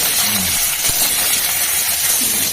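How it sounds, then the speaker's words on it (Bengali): Vegetables and black cumin seeds dropped into hot oil give a loud, steady, close hiss of sizzling with faint clicks, no talking. "এই যে আমরা কালো জিরে দিয়ে দিলাম, সবজিগুলোকে দিয়ে দিচ্ছি"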